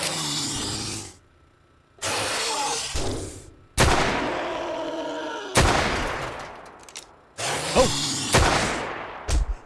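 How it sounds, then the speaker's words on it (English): Heavy hand cannon blasts in the 7 Days to Die survival game, several loud booming shots spaced a second or two apart, each followed by a long rumbling decay, with no talking. "then we'll use the hand cannon on him"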